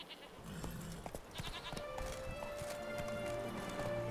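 Roach the horse trots with steady clip-clopping hooves in The Witcher 3, a continuous rhythmic patter over game ambience and background music.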